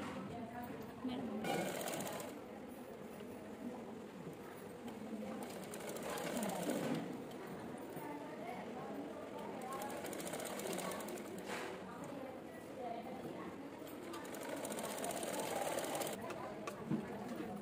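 A sewing machine stitching the lining and main cloth of a child's langa jacket together, running in a steady quiet whir with brief surges, while someone talks over it the whole time.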